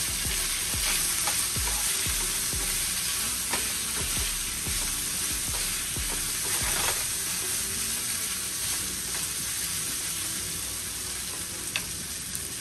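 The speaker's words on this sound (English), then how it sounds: "Let's go ahead and get a spoon and give it a stir." A spoon stirring rice cooking in a pot for a chicken and steak burrito bowl, a steady frying sizzle with regular scraping strokes repeating about every half second, then a smoother hiss, no talking.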